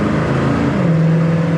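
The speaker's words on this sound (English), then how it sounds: "Nice shift, runs good." A 1966 Ford Mustang engine runs steadily at close range, a continuous loud drone whose pitch drops partway through as the transmission shifts, with no voices over it.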